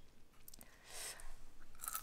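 Close, quiet crunching as someone chews a crunchy, spicy small-fish snack, with a few brittle bites and soft mouth sounds over about two seconds and no talking.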